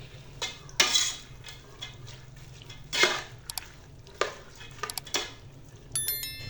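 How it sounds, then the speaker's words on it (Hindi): A spoon stirs and mixes chana dal kabab ingredients in a pot, giving irregular close scraping and clinking strokes with short wet sloshes between them and no talk. "अब इन सबको अच्छी तरह मिक्स कर लेते हैं।"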